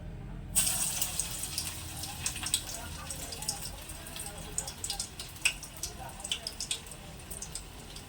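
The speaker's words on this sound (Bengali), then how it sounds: "এখান থেকে একটা চপ গরম তেলে ছেড়ে দিচ্ছি।" A coconut chop dropped into hot oil over a medium-low gas flame, giving a steady crackling sizzle with bright spitting pops throughout, loud and close, with no talk.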